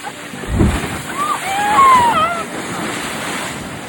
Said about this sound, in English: the water just gushes in and then sucks